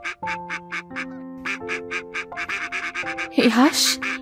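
A cartoon duck quacks in a rapid, rhythmic string of nasal calls, close and clear, over a sustained musical backing, ending in a louder, more strained cry.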